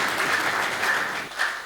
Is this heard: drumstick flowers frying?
no